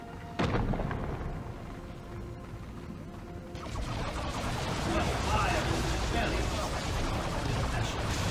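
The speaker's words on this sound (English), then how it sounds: "That's a nice barrage right there." Artillery barrage in the Warhammer 40k strategy game Dawn of War 2 Retribution: a sharp crash opens, then a dense, sustained roar of booming explosions and rumbling impacts builds and holds loud to the end.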